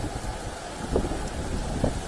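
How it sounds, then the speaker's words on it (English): Strong wind buffets the microphone outdoors at night in a cemetery, a steady low roar with a couple of louder gusts, no talking. "But it certainly is windy now."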